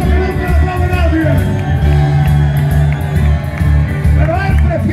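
Crowd at a live rock concert at a motorcycle rally, shouting and cheering loudly over the band's heavy low music; a voice calls out over the noise.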